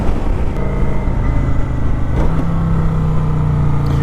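A 2021 Kawasaki Vulcan 900 cruiser motorcycle accelerating, its engine a loud, steady low rumble that climbs in pitch through a gear change around the midpoint, with wind noise over it and no talking.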